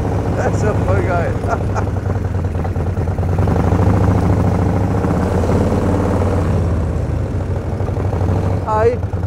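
A 1934 Morgan Threewheeler Super Sports in original condition pulls away under throttle, its engine a loud, close, continuous rumbling drone, with voices talking over it.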